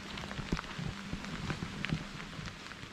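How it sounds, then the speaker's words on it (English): Heavy rain along the Portuguese Camino de Santiago near Redondela, pattering steadily with scattered louder drops and faint irregular taps, soft and continuous. "Heavy rain again."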